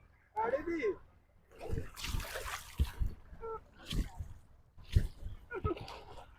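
Splashing and sloshing as someone dunks into cold, clear river water, with bursts of splashes close by between loud voices talking and calling out.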